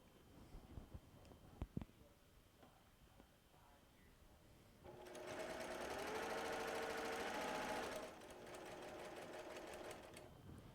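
A sewing machine runs in a loud continuous burst while quilting a fabric panel, stopping briefly and then resuming, after some quiet handling clicks and taps; no talk is heard.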